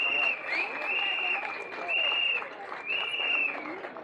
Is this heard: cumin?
no